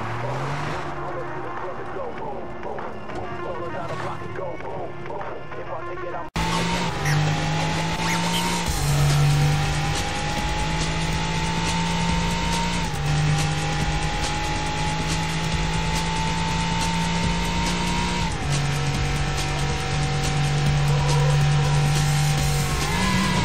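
Car chase in the video game Far Cry 3: a loud racing engine holds a steady drone, with pitch dips at gear changes and tire squeal, under scattered voice sounds.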